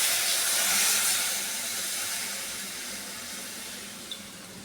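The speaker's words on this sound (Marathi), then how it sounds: "इथे मी पाणी टाकते।" Half a glass of water is poured into a pan of dried Bombay duck cooked with onion, tomato and spices for chutney. A close, steady hissing rush fades gradually over a few seconds.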